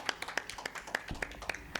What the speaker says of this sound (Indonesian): beri tepuk tangan yang meriah dulu lah guys